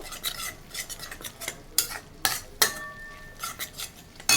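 Masala with Kashmiri chili powder stir-fried in oil for a Bengali bhetki fish curry: a close, busy run of spoon scrapes and clinks against the pan over a soft sizzle, with one brief metallic ring partway through.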